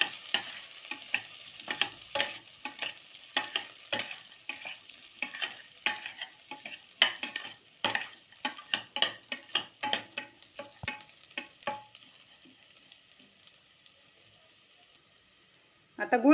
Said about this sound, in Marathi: चांगले परतायचे ते